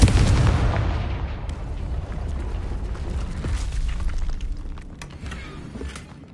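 Confringo explosion spell in the game Hogwarts Legacy, a loud deep boom that rumbles and slowly fades over several seconds, with no voices.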